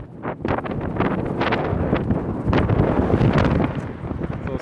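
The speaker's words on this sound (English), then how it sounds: "it's a lot of wind." Strong wind blasting across the microphone outdoors, a loud continuous roaring rumble that swells and eases with gusts and stays constant throughout, with no voice over it.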